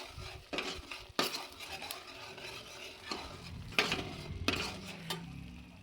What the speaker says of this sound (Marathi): हे चांगलं मिक्स करून परतून घेऊया.